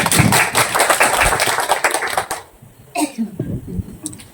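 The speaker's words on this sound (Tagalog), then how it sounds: "Palakpak." Clapping from a small group at a private Lenten recollection in a Catholic home gathering, a dense burst of hand claps that thins out and stops, followed by a few scattered claps and a voice.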